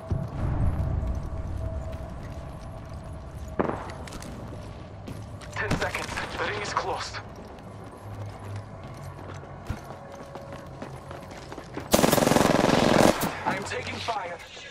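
Gunfire in the Apex Legends video game, scattered shots and a dense burst of rapid fire near the end, mixed with game sound effects and voices.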